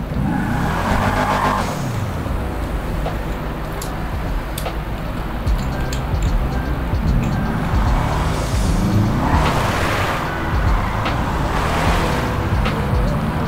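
The Sultan car driving in GTA 5 gives a loud, continuous engine drone with rising and falling revs and occasional tire skids throughout.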